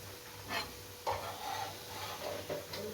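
Batter-coated bread pakoras fry in hot oil, a soft steady sizzle with a few louder scraping stirs and turns of a spoon, close and fairly quiet.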